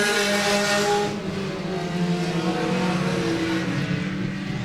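Race cars at Laird Raceway roaring together around the track, a loud, sustained, layered engine drone with shifting revs and no break.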